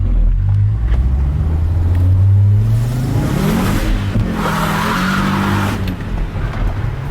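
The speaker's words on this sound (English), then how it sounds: "That front wheel drive squirm with the 5-pot manual." Audi RS five-cylinder engine swapped into a front-wheel-drive VW Caddy van with a manual gearbox and stock exhaust, revving hard close by as the pitch climbs through a gear, then easing off with some tyre noise.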